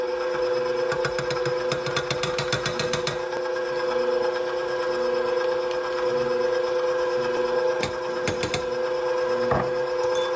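An electric mixer on a low setting blends keto bread dry mix with fat powders, a steady close motor whine with rattling, clattering bursts throughout.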